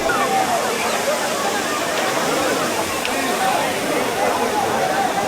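Courtallam waterfall roars in a dense, constant wash of falling water, steady and close throughout, with any bathing crowd lost in the rush.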